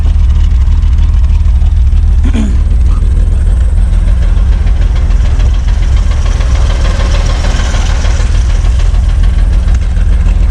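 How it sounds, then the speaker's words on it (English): A 1955 Plymouth Plaza station wagon engine, fitted with a slip-on muffler, runs at a steady idle with a close, rough, knocking rumble that holds evenly throughout. "I was able to just slide a muffler on there. That way it's not so loud."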